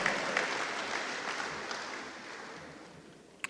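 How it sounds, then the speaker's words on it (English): Audience at a high school football Hall of Fame induction ceremony applauds the honorees, with steady crowd clapping that slowly fades and a single sharp clap near the end. "How about a nice round of applause for those gentlemen who had outstanding high school careers"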